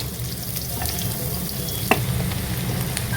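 Sliced onion sautés in hot oil in a pan for tapioca biriyani, a steady soft sizzle with light stirring scrapes and one sharp utensil tap.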